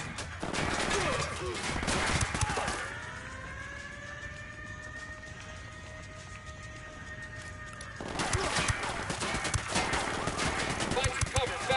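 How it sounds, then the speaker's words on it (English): Gunfire in Ghost Recon Wildlands: dense, rapid shots crackle loudly, stop for a few seconds while a tonal effect hums, then resume in a long sustained barrage. "I'm shooting these fuckers."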